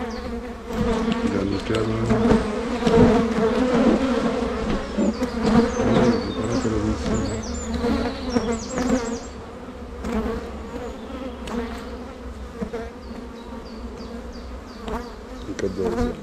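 Honeybees buzz loudly and continuously at an open hive during a swarm split by stacking, a dense steady drone filling the whole stretch while a voice speaks briefly over it.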